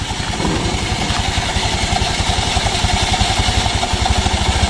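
A motorbike engine with a worn CVT runs steadily up close, its low, rapid rhythmic pulsing holding through the whole stretch with slight revving surges and mechanical clatter, no voices.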